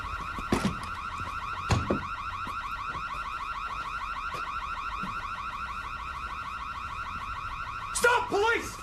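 A car alarm blares a steady, looping electronic warble, moderately distant, broken by a few sharp knocks or thuds and a brief burst of clatter near the end.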